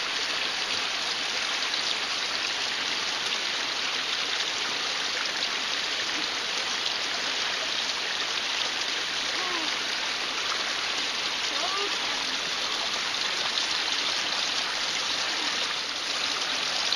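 Cold water rushes steadily along a stream beside a hiking trail, a constant close broadband flow filling the whole stretch, with faint voices barely audible beneath it.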